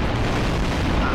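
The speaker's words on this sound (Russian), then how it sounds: "Ого, мне взрывом откинуло." A loud, close explosion in the sandbox game Garry's Mod, with a dense, rumbling blast that fills the whole short moment and no speech over it.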